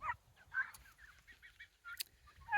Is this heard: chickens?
yes